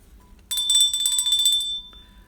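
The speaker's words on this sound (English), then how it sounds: "We'll give those guys the bell." A bright bell rings continuously for about a second, loud and close, celebrating good baseball cards, then fades with a faint trailing tone.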